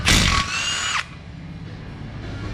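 A 3/8 impact wrench on bolts of a Cadillac Escalade with a 6.2, one loud short burst of whirring and hammering that winds down after about a second, then quiet.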